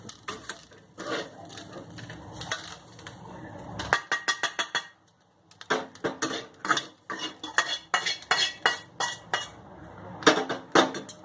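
Roasted grated coconut scraped out of a pan with a metal spoon during Malvani masala prep: repeated sharp metallic scrapes and clinks in quick bursts, close and clear, with a short pause midway.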